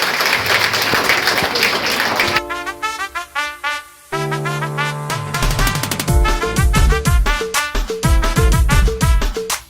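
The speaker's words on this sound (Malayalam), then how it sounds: "കയ്യടിയോടുകൂടി നമുക്ക് സ്വാഗതം ചെയ്യാം" Crowd applause welcoming MP P. V. Abdul Wahab at a JSS food fest exhibition in Marutha, Vazhikkadavu panchayat; a short burst of dense clapping opens, then loud music takes over.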